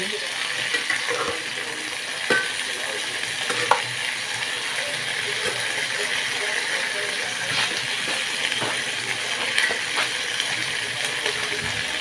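String beans sauté in a hot pan while being stirred, a steady sizzle running throughout with occasional sharp clinks and scrapes of the utensil against the pan, close and fairly loud.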